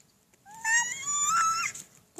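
A cat gives a drawn-out, rising and falling meow, moderately close, with a household setting audible around it and a brief noise at the very end.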